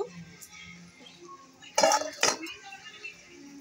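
A cake pan is set into a hot kadai, two sharp metallic clanks close together over quiet room sound, with a voice speaking softly before them.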